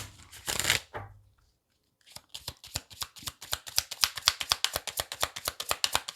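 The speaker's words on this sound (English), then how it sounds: "And now let me get one of the angel cards for you guys." Deck of angel cards shuffled by hand, a brief riffle followed by a pause and then a rapid, steady run of crisp close card flicks, with no talking.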